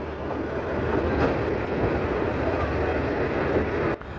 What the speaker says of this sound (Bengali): আমাদের ট্রেনটি অবশেষে আখাউড়া রেল স্টেশনে এসে প্রবেশ করেছে